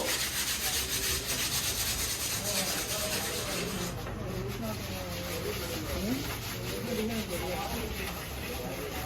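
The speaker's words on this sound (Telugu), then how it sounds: "మంచిగా నునుపుగా పాలిష్ చేస్తున్నారు." A big Ganesh idol's surface is polished smooth by hand in a workshop shed, giving a steady, continuous rubbing and sanding hiss throughout while people talk over it.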